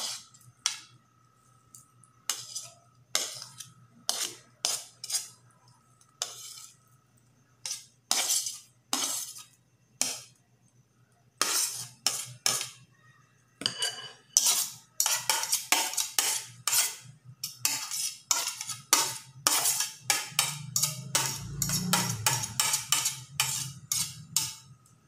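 A bowl of chilled chayote and eggs being mixed for tortang sayote, a spoon or fork clinking and scraping against the bowl in quick, irregular bursts, close and clear, with no voices.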